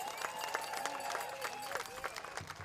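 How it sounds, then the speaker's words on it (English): Powwow crowd at a waterfront gathering breaking into sustained applause and scattered whoops, dense and steady throughout, with an announcer's voice and background chatter mixed in. "Give them a bigger round of applause than that."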